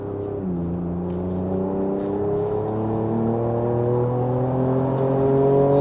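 A Ford Ranger Raptor pickup in sport mode revs while driving at about 40, its engine note holding a steady, loud drone that climbs smoothly in pitch as it accelerates, heard up close with no talking.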